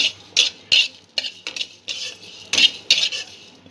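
Cumin seeds and a dried chilli dry roasting in a pan, stirred so a utensil clinks and scrapes against the metal in a string of sharp, uneven taps and short scrapes, close up, with no talking.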